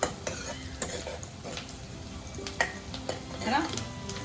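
Onions fry and sizzle in a pan while being stirred for a laal saag dish, with steady sizzling broken by several sharp scraping stir strokes and light clinks of a utensil against the pan, up close with no talking.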